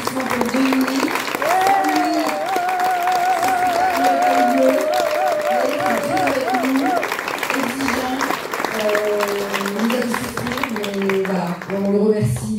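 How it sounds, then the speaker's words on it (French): A theatre crowd at an amateur troupe's performance applauds steadily for a dozen seconds, while voices call out and chatter over the clapping throughout. "donc on va vous donner un applaudissement pour Dominique"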